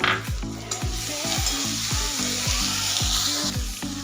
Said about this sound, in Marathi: तेलामध्ये आपल्याला कच्चेपणा जाईपर्यंत परतून घ्यायचा आहे।